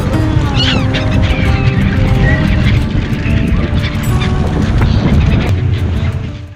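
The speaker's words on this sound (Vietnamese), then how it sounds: "Thường thì những con chim hải âu nó sẽ bay theo nhiều như thế này." Seagulls call over the bay off Mumbai as they follow boats, a crowd of squawks and honking cries layered over a steady boat engine drone, loud and continuous.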